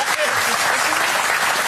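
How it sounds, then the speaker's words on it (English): Studio audience applauding at a sports-themed television panel show, a dense steady burst of clapping that fills the short moment at even loudness. "A round of applause."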